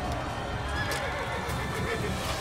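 A horse in Assassin's Creed neighs amid game noise, a short whinny rising over a dense, rumbling backdrop with a person's voice also present.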